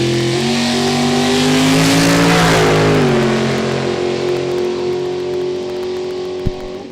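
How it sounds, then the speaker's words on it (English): A three-seat dragster makes a drag racing run at a drag strip, its loud engine roaring steadily with rising and shifting harmonics throughout, then fading slightly before a sharp bang near the end. "Another ride for our 3-seat proud American ride dragster."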